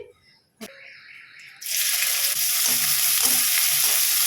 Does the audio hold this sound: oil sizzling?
yes